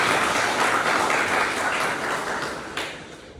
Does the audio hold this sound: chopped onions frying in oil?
no